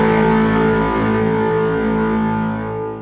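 A Greco Firebird electric guitar run through a King Tone Octaland and an EM5 Echo Machine rings out with a crunchy, distorted sustained chord and echo trails, loud and alone before fading slightly at the end.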